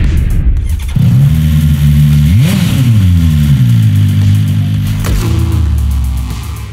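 BMW S 1000 RR superbike engine at its live debut, loud and close: idling, then a sharp rising rev with a whooping blip, several throttle swells and another quick blip before settling back.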